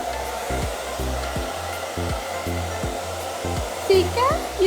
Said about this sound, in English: All the babies getting blow dried.